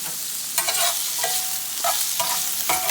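Vegetables sizzle and crackle in a hot pan, with bursts of stirring and scraping every half second or so, close and fairly loud.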